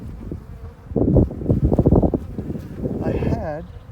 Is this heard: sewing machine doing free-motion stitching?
no